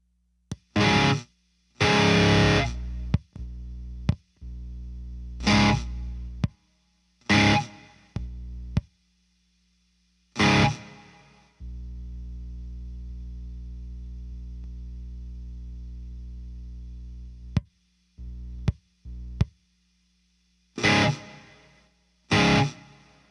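A Fender Bassbreaker 15 guitar amp in need of new tubes and a tune-up plays in short distorted bursts of strummed chords. A longer sustained note rings out in the middle, with silences between the phrases.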